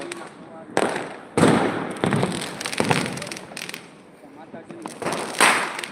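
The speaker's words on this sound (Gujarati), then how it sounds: "ફટાકડાની મોજ છે જો" Fireworks and firecrackers go off at a lively celebration in a handful of loud, sharp bursts a few seconds apart, while people talk nearby between and over the blasts.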